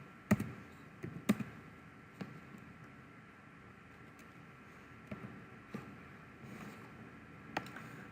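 Scattered keystrokes on a computer keyboard tap out sparse, uneven clicks, a few sharper presses standing out over faint room hiss, quiet and close with no speech.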